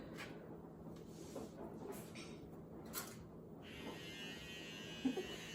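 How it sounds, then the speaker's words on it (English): Electric beard trimmer used in a bathroom, a faint, steady buzzing hum from another room that keeps going in the background, with a few soft knocks and clatters nearby. "That is Josh touching up his beard or whatever he's doing."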